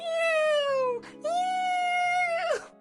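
A voice actor meows in a Mystic Messenger video game phone call, making two long, clear, close meows, the second ending in a sharp downward slide, with a human voice imitating a cat.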